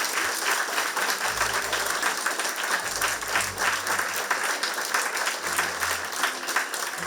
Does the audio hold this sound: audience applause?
yes